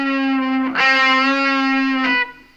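A single sustained distorted electric guitar note on a scalloped fretboard rings loud and steady, with picking attacks at the start and near the end, and its pitch pushed slightly sharp by heavier fretting pressure.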